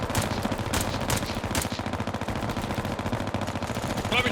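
Sustained automatic suppressing fire in the PvP milsim shooter Bellum, loud rapid bursts rattling continuously with a few sharper close cracks.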